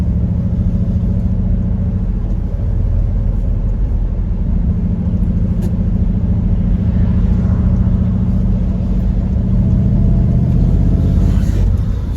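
A Triumph Stag classic car's engine drones steadily while driving, a loud, continuous low rumble with even road noise and no pauses, heard from inside the car.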